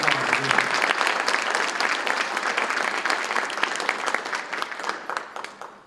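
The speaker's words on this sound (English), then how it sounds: "Let's give our speakers a round of applause." A banquet audience gives a sustained round of applause. Dense clapping fills the room and slowly tapers off.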